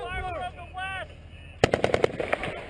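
Machine gun fire in a combat sound-effect scene, a sharp burst of rapid shots breaking in after a stretch of voices and background rumble, loud and close.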